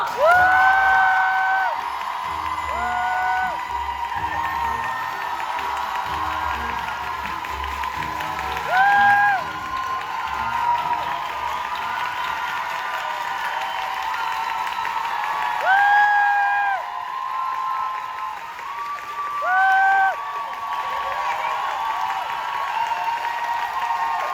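Applause and cheering from a theater audience at a closing-night stage greeting for the musical Pirates, with sustained clapping, whoops and shouts, and a few rises in cheering.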